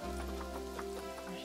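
Rain patters in the zoo-building video game Planet Zoo, a soft continuous hiss of drops under sustained steady background tones.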